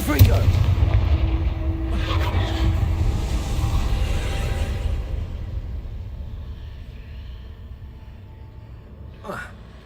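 Confringo fire spell blasting in Hogwarts Legacy, a deep booming explosion up front with a rumbling tail that slowly fades, then a short sharp crack near the end.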